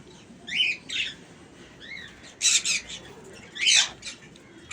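A hand-tame sun conure parrot gives several sharp, loud squawks and shorter chirps in irregular bursts against a low background hiss, close by with no talk.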